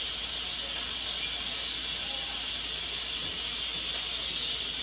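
An Instant Pot on quick release vents steam in a steady, loud hiss, continuous, broad and airy with no pauses, close by and with no voices.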